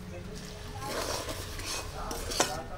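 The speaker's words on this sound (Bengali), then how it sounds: "জলটা অল্প অল্প করে জলটা দেবো আর নাড়তে থাকবো" Semolina being stirred in a pan with a spoon as water is added bit by bit for a sweet snack, giving soft scraping and clinking of utensil against the pan, close and steady, with a sharper clink near the end.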